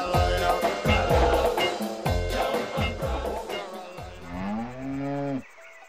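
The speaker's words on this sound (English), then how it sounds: "now we take on the dangerous business of milking the cow" A cartoonish cow in the adventure game Ark of Time moos repeatedly while being milked, a run of loud, low, bellowing calls ending in one long drawn-out moo, with a faint game-music bed behind.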